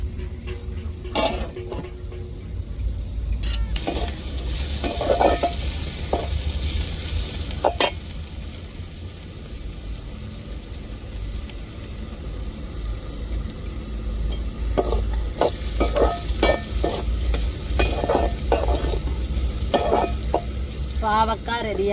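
Vegetables for carrot poriyal sautéing in a pan with a ground paste of cumin, garlic and chilli, a steady soft sizzle with occasional sharp clicks of a spoon stirring, no talking.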